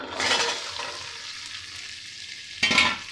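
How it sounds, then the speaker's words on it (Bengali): Onion and capsicum pieces hitting melted butter in a pan, a sharp burst of sizzling that settles into a softer fry, then another brief loud sizzle near the end. "এবার আমি দিয়ে দেব আমার কেটে রাখা পেঁয়াজ আর ক্যাপসিকামের টুকরোগুলো"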